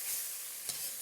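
Ground cumin is stirred into a frying soup base for bean and bacon soup, a faint, steady sizzle with one brief scrape of a utensil.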